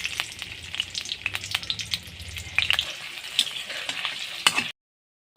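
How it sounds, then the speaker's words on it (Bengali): French fries frying in hot oil on a stove, a busy crackling sizzle with sharp pops scattered throughout, close and steady before cutting off abruptly near the end. "তেল গরম হয়ে গেছে, আমি ফ্রেঞ্চ ফ্রাইগুলো দিয়ে দিব"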